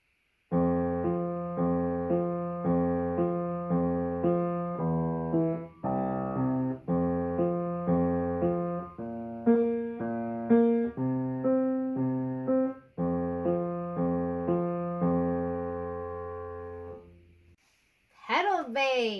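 Piano playing a murky bass, a low, rumbling bass alternating between broken octave notes in a low-high pattern under chords, played steadily and fairly loud, followed by a brief spoken voice.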